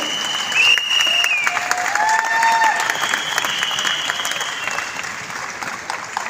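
Loud, dense clapping from a large audience at a speech in Delhi, sustained for several seconds with a few high whistling tones over it.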